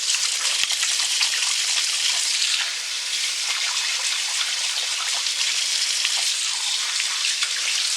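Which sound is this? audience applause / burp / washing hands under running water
washing hands under running water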